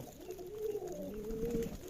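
A small racer pigeon gives a low, soft cooing call, rolling and throaty, fairly close in a quiet setting.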